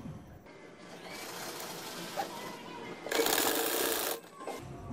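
A sewing machine runs in bursts while stitching a zip along the back edge of a kameez, a steady whirring stitch run followed by a louder, brighter burst, close by with faint background.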